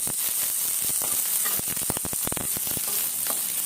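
Thinly cut potato and eggplant fry in a pan over tempered spices and chili, a dense continuous sizzle broken by a run of sharp scrapes and clicks from stirring.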